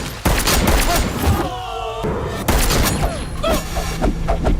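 Pistol gunfire in a film scene where a man shoots a group of thugs, heard as loud, sharp blasts and thuds in quick succession amid a dense action soundtrack with brief voice-like sounds.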